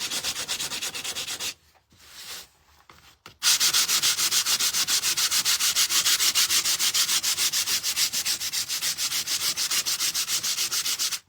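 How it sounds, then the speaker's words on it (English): Sandpaper rubbed back and forth over painted black wood of a ladybug door hanger, a fast, even scratching rhythm of short strokes, close and loud, with a brief pause early on before the sanding resumes steadily. "But I am sanding this as well."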